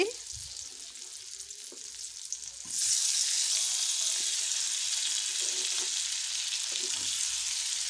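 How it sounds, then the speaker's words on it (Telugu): Tomato pieces frying in masala for egg curry, a quiet sizzle that jumps to a loud, steady close hiss a few seconds in as the tomatoes hit the pan, with faint stirring taps. "ఇవి ఫ్రై అయ్యే లోపుగానే టమాటా ముక్కల్ని కూడా వేసి"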